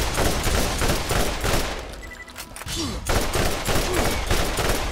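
Dense, continuous video-game gunfire from Borderlands rattles throughout a boss fight against giant slag tentacles, loud and steady with rapid overlapping shots and brief dips in intensity.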